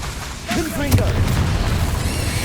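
A Confringo fire spell goes off in the Hogwarts Legacy video game with a deep booming burst, swirling magical tones and a sustained rumbling roar that fills the short moment.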